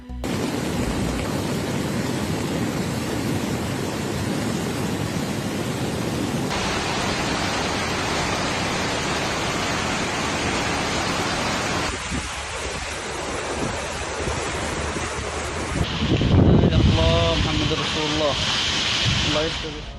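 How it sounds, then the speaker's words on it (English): Heavy rain in a downpour produces a loud, steady broadband wash that continues throughout, shifting in texture partway through, with a brief lower rumble and rustling near the end. "Al Maraha experienced heavy rains and downpours, leading to congested roads in some areas"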